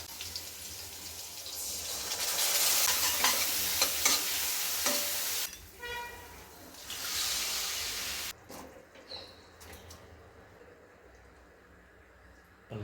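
Parshe fish with potatoes frying in hot oil in a home kitchen pan, a steady broadband sizzle with repeated stirring scrapes, dropping away near the end to quieter clatter and a brief run of tap water.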